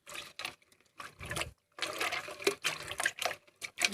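Muddy water poured out close by in splashy, uneven bursts with short gaps between pours; no one speaks.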